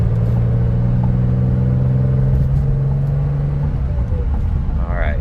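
A 1986 Porsche 911 Turbo drives along with a steady loud engine drone and road rumble from inside the car; the exhaust crackle is not clearly distinct from the engine noise.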